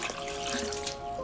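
Water runs and splashes steadily into a glass for over a second, a continuous close trickle with faint tonal ringing from the vessel, no voices.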